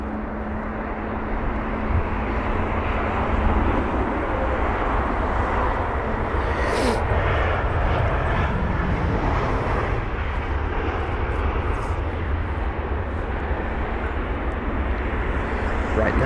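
An aircraft lands on runway 27 right at London Heathrow, its engine roar a steady, continuous broadband rumble throughout, loud and unbroken, with faint voices beneath.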